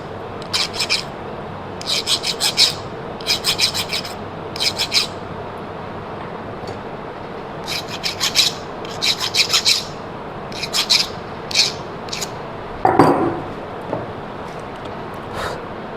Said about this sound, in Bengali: আমরা ফাইল দিয়ে আরেকবার ঘষে নেব মাথাটা সমান করার জন্য